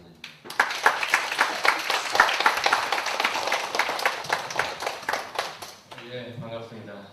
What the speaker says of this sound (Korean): 모두 이제 박한우 교수를 박수로 맞아주십니다